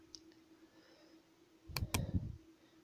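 Clicks from a computer mouse on a Gmail page, where every email is selected for deletion: a few crisp clicks, close and fairly quiet, over a steady low hum, with no speech.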